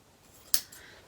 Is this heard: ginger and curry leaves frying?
no